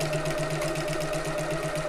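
Sewing machine back stitching on a tote bag, a rapid even mechanical whir of needle strokes, close and steady throughout with no talking.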